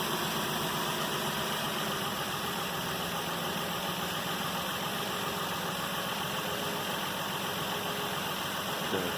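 A 2008 Nissan Pathfinder 4.0L V6 engine idles steadily up close, a continuous low rumble with a faint mechanical hum and no change in pace.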